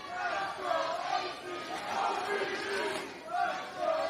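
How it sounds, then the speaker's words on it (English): A wrestling crowd chants for AC Romero in rhythmic, swelling waves of voices that rise and fall across the arena, moderately distant. "Fans chanting for AC Romero."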